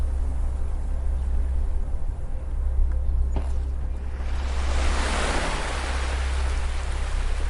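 Gentle ocean waves on a beach, a soft wash swelling broadly midway and lingering as a diffuse hiss over a low steady rumble, with no voices.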